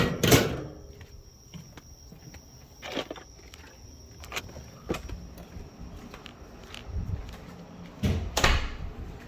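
An outdoor metal emergency disconnect box for a DNM4500S machine is opened, with a few sharp metallic clanks and latch thuds spread over several seconds against quiet room noise.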